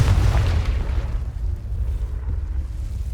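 Confringo fire spell in the Hogwarts Legacy video game bursting in a loud, booming explosion with a heavy low rumble that swells at the start and rolls on at a steady level.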